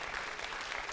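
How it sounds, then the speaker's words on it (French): A studio audience at a televised French-language contest final claps steadily for a contestant, a dense, even burst of applause alone without voices. "mais quand même, applaudissons-la."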